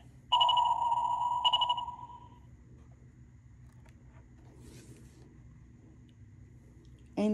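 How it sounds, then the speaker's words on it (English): Two submarine sonar pings sound in quick succession, each a bright ringing tone that fades out, followed by a low steady rumble and a faint final ping at the end. "Submarine."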